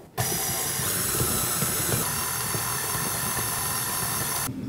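Electric mixer beating icing sugar into chocolate cake mixture, a loud steady whirring drone that starts abruptly, runs evenly for over four seconds with rattling texture, then cuts off.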